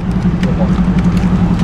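A motorcycle engine idles close by with a steady low throbbing hum, running continuously as the bike is brought nearer.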